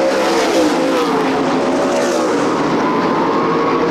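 Race cars in the Southwest Tour 100 battle around Irwindale speedway, a dense, loud, continuous engine roar from several cars running close together.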